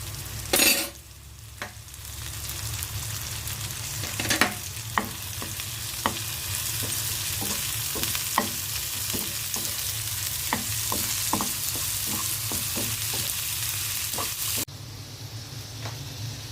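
Shrimp sizzle in hot oil in a pan, with salt added. The frying holds a steady hiss throughout, broken by occasional clicks and scrapes from stirring. The hiss cuts off abruptly near the end.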